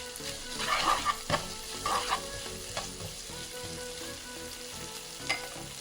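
Cubed onions and capsicum fry in a little oil, a close steady sizzle with several stirring scrapes and clatters of the spoon, busier at first and then settling into an even hiss.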